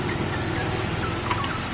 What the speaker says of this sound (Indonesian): berisik suara mobil motor